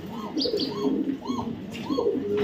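Pigeons, including a young red chequer racing hen, coo repeatedly in close, rolling calls at a steady rhythm, with soft chirps mixed in and a murmur of other birds behind.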